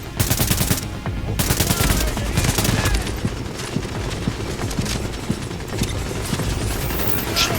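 Dense automatic gunfire rattles through a firefight in Tom Clancy's The Division, with rapid continuous bursts of loud shots throughout.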